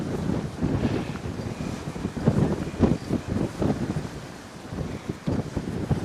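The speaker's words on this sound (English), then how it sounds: "I can't really do anything about the wind." Gusty wind buffets the microphone outdoors at a vegetation fire, producing a continuous low rumbling roar with irregular bursts and swells, no voices.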